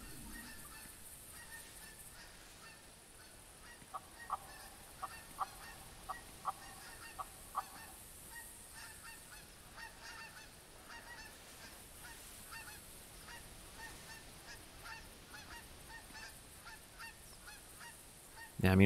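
A flock of geese in the video game theHunter Classic honks as it flies over, a run of short evenly spaced calls at moderate distance with faint outdoor ambience before and after.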